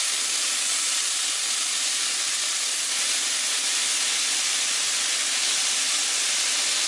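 Seasoned shrimp sauté in a frying pan with a continuous loud, even hiss of sizzling that holds steady throughout, with no talk.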